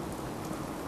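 Steady rain pours in Fallout 4, a dense, even hiss of drops with a faint low rumble beneath, continuous and unbroken through the short moment.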